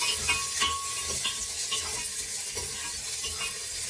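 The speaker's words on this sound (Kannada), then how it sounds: "ಹೆಚ್ಚಿಟ್ಕೊಂಡಿರೋ ಈರುಳ್ಳಿ ಹಾಕೋಣ. ಗೋಲ್ಡನ್ ಬ್ರೌನ್ ಬೇಕಂತ ಫ್ರೈ ಮಾಡಿ" Chopped onions fry in oil for bisi bele bath, a steady close hiss and sizzle with light scraping stirs ticking through it, no voices.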